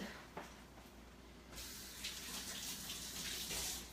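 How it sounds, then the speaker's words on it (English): Homegrown organic tomatoes are rinsed under a running kitchen tap, a soft trickle first that swells into a loud, steady gush of water splashing over them. "So let me rinse these, because I don't think I did."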